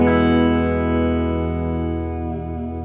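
A sustained electric guitar chord rings out through a Fender Tonemaster Twin Reverb amp with reverb, slowly decaying over a few seconds.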